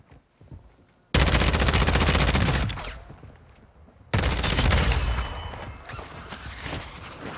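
An ISO 45 submachine gun fires in Warzone 2 in two loud, sustained automatic bursts, each a dense rapid rattle of shots lasting a couple of seconds and followed by echoing tails.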